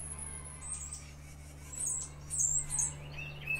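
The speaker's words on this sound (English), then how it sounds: "Can you hear my chickens? They are squawking." Chickens squawking while laying eggs, faint and intermittent high calls in short bursts over a steady low hum, heard at a distance with no talking.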